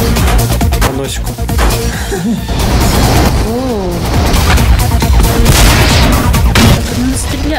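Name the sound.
cartoon tank cannon firing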